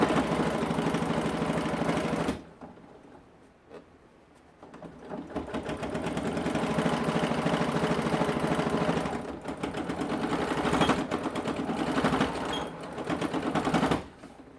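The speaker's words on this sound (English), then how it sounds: "I'm going to back stitch over that." A sewing machine runs steadily as it back stitches a seam on a crossbody bag, with a brief slowdown and pause in its close, continuous mechanical whir before resuming at full speed.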